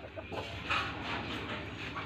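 Chicken clucking, a short burst of soft, close clucks over a low background rumble.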